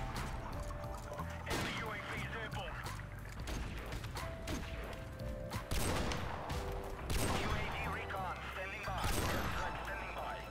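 Video game shooter gunfire rattles in bursts of rapid shots and heavy impacts, dense and continuous beneath a player's excited talk.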